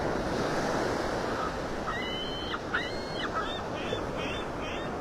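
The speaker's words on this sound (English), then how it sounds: "Any idea why they call them laughing gulls?" Harsh laughing gull calls repeat in a short series above steady surf and wind on a beach at Pelican Bay, North Naples, Florida.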